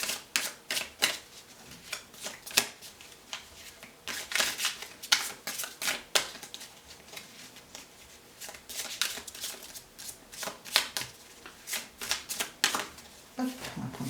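Tarot cards shuffled and handled by hand, giving a quick run of crisp riffling and flicking snaps that come in close irregular bursts across the whole stretch, with no talking over them.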